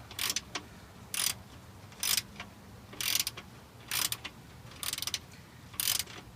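Bolts being loosened from a shock absorber on a 1970 Oldsmobile 442, a steady series of about seven short ratcheting bursts at a regular rhythm, fairly close and moderately loud with no talk.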